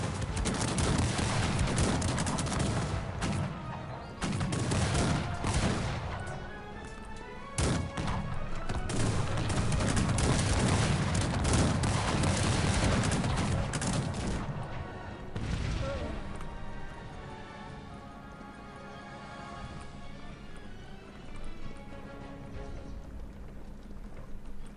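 Cannon and musket fire in the strategy game Cossacks 3, heard as dense, overlapping booms and crackling volleys that go on almost continuously through a large battle, with some galloping hoofbeats mixed in. A few louder blasts stand out from the steady din.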